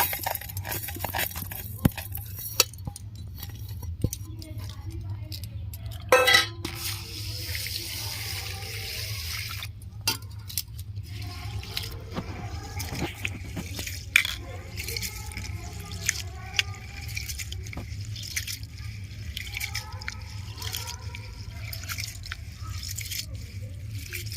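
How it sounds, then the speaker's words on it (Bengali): Peas, mung dal and Gobindobhog rice are rinsed together under running water, with steady faucet flow, dripping and occasional splashes and squishes close by, for a rural winter-afternoon vegetarian khichuri. "মটরশুঁটিটা ছোলো মুগ ডাল আর গোবিন্দভোগের চাল আমি একসাথে করে ধুয়ে নেব"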